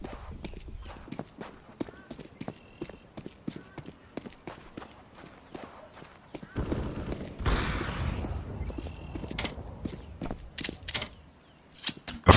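Rapid gunfire rattles through an online shooter match, with many sharp close shots and bursts across the clip, a denser volley in the middle, and players' voices talking over it.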